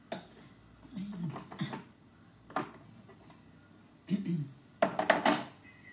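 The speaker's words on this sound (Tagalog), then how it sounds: "Lalagyan na lang natin yun ng mantika" A frying pan clanks and rattles on a stove while oil is added for frying chicken, with a few short bursts of metallic clatter separated by quieter gaps and someone talking softly.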